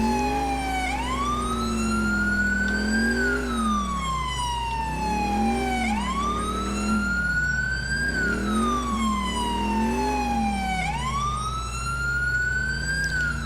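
A police car siren in the video game GTA IV wails, cycling up and down continuously, loud and close, over a steady low engine drone.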